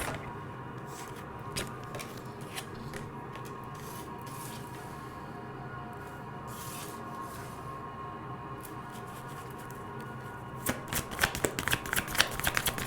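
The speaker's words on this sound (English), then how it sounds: "I'll take 5 cards from this deck. We're pulling oracle cards for my fire signs." A deck of oracle cards being shuffled by hand: soft, close, repeated riffling and sliding card sounds throughout, building into quicker, louder flicks near the end, with no talking.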